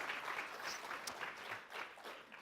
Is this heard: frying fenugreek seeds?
no